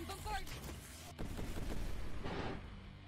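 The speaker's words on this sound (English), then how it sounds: "Commencing bombardment." Bombardment gunfire from a spaceship battle in the video game Sunrider: Mask of Arcadius, a faint volley of rumbling blasts, with a softer burst followed by a louder, sustained barrage.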